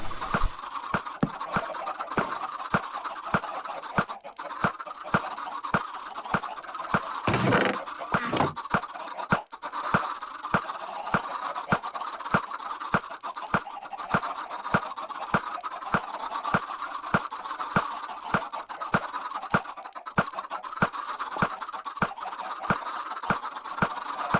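Minecraft chickens cluck and gobble continuously in a dense fowl chorus, accompanied by regular sharp clicking sounds throughout.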